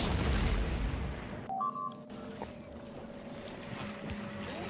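Delivery cannons in the Factorio factory game fire over and over, each shot a short thump followed by a whirring, rumbling layer of machinery, loud and dense at first and then thinning to a steady hum with sparse distant pops.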